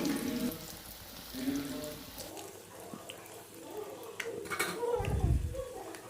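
Egg broasted frying in hot oil gives a steady, soft sizzle and bubbling hiss throughout. A low bump near the end comes from the pan being handled.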